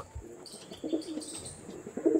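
Fancy breeding pigeons give a few soft, low coos in quick succession nearby, the calls quiet and separated by brief pauses.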